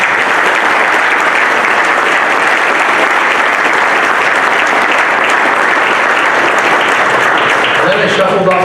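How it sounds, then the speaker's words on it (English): A big round of applause fills a hall at a hockey hall of fame induction ceremony, the loud, dense clapping sustained throughout with a voice emerging at the very end. "I'll give you guys a big round of applause."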